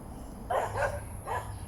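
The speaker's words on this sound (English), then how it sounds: "You can hear the dogs barking" A dog barks a few times at a distance, two quick barks and then another, over a low background hum.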